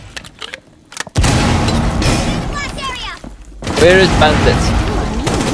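Pistol gunfire rings out in a video game, a loud burst of sharp shots and booming impacts with a brief lull before more firing, while a player talks over it.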